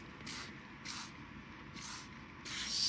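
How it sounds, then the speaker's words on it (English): Homemade insect treatment mixture is sprayed onto a plant infested with black insects and scale, giving four short, close hissing bursts spaced under a second apart over a low background rumble. "So I'm going to spray them literally"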